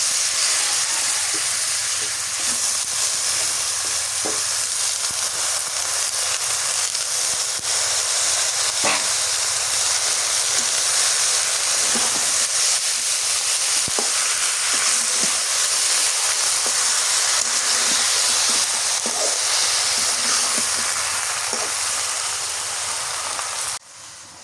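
Malabar spinach cooks in a clay pot over a clay stove, giving a steady, fairly loud hiss and sizzle like rain, with a few faint clicks and no talking.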